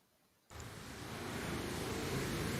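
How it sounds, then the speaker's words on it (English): Water in a video game switches on abruptly as a loud, steady rushing wash, like surf or a torrent, swelling slightly and holding at full strength without a break. "Why is this water sound so fucking loud?"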